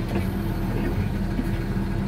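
A 2012 Massey Ferguson 8650 Dyna VT tractor engine running steadily, a loud low diesel drone with a constant rumble, no other sounds standing out.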